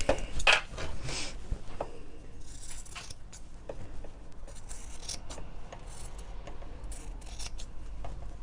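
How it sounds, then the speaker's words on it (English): Scissors trim fabric for a quilted cushion cover at close range, giving crisp snipping and rubbing cuts at an uneven pace with no talking. "I'm just going to trim back this piece here."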